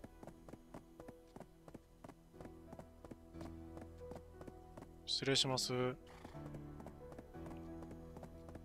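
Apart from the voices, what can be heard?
donkey hooves clip-clopping in the video game Black Desert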